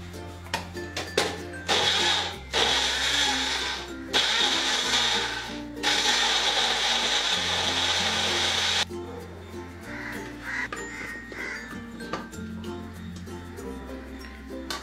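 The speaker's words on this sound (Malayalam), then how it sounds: "ഇനി ഇത് ക്ലോസ് ചെയ്ത് അരച്ചെടുക്കാം" A kitchen mixer grinder whirs loud and steady while grinding red chili sauce, olive oil and salt into a marinade paste for grill chicken, running in several bursts separated by short pauses.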